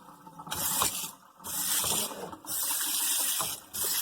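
A Bio Bidet FLOW touchless kitchen faucet's pull-down sprayer hisses water in three bursts, switching on and off with short gaps between each loud, close spray.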